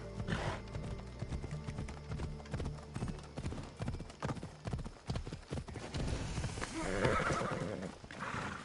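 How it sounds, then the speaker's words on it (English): Repeated hoofbeats clip-clop steadily while a horse whinnies loudly near the end, over a continuous background from the video game Assassin's Creed Odyssey. "Hop on the horse."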